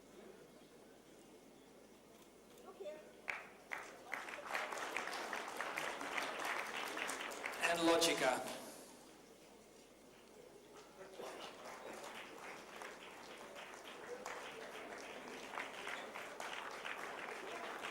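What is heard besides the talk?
audience applause for award nominees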